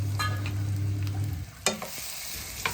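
Ripe plantain pieces sauté in ghee in a pan, with a steady low sizzle and a few sharp scrapes and clinks of a spoon against the pan near the middle and end, close and moderately loud, with no talking.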